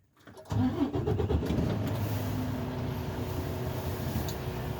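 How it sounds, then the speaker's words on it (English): A truck engine cranks and catches after a brief silence, then settles into a steady, loud idle rumble heard up close inside the cab. "Then I start my truck."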